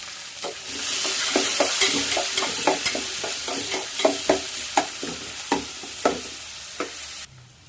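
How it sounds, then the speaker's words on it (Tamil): Curry leaves, garlic and onion sauté in hot oil for Kara Kuzhambu: a steady sizzle under a quick run of rhythmic spoon-and-pan scrapes and taps, close and fairly loud, stopping abruptly near the end. "கறிவேப்பிலை, பூண்டு, வெங்காயம் இதெல்லாம் வதக்கிடுவோம்"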